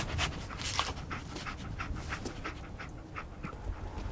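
Dogmeat, the dog companion in Fallout 4, pants quickly and steadily in soft rhythmic breaths, close and fairly quiet, with no talking.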